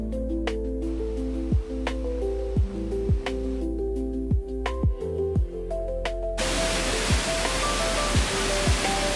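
A Lake District waterfall beneath a small footbridge gives a steady, dense rushing roar that swells louder toward the end, with music playing over it and no voices.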